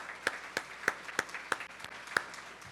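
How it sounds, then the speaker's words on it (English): Conference audience at a breast cancer summit giving a short round of applause, sparse distinct claps repeating in an even rhythm, fairly close and clear with no talk. "So please, a round of applause for you."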